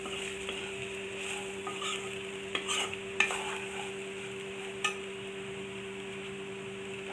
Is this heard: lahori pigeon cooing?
no